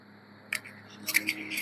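Faint plastic clicks from button presses on a Grenaro S10 microphone, switching its reverb mode off: one soft click, then a quick cluster of about three more, close but quiet over a low hum.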